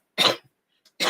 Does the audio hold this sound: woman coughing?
yes